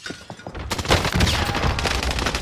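Shotgun blasts in Warzone, a loud close boom after a few faint clicks, then sustained crackling gunfire and chaotic noise.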